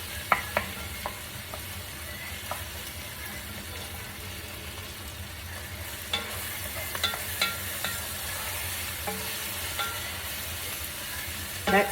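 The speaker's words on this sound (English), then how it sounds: "Now we're just going to put in our lentils." Lentils tumble into a pot for a classic Italian-style lentil dish and get stirred, with a steady low sizzle and scattered spoon scrapes and clinks, close and moderately loud.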